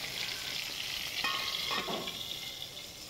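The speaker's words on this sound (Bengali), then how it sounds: "তো প্রথমে আমি বেগুনগুলো ভেজে নিচ্ছি।" Eggplant slices fry in a hot pan with a steady, hissing sizzle, and a spatula scrapes and stirs briefly midway, with no voices.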